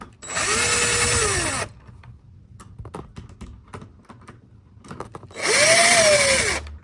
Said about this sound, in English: Now the mounting plate goes to the other side. Secure with 2 screws.